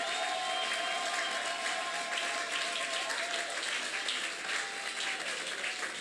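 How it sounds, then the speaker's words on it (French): A church congregation at a Sunday service applauds loudly for several seconds, a dense, steady wash of many hands clapping in a large room with faint crowd noise underneath. "On acclame très fort le roi des rois."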